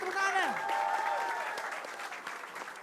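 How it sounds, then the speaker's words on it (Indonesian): Applause and crowd noise for comedian Awe at a stand-up comedy show, steady clapping filling the whole stretch, with a host's voice sliding over it at the start. "Tepuk tangan sekali lagi buat Awe yang paling kenceng mana tepuk tangannya"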